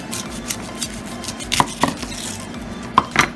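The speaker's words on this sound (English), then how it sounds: "I'm going to cut off the ends of these onions." A kitchen knife cutting the ends off onions on a cutting board, a few sharp knocks and taps close by against quiet kitchen background.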